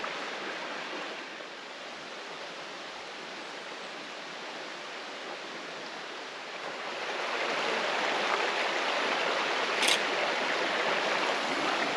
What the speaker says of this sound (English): Great little camp spot by the creek in the shade of these big cedars.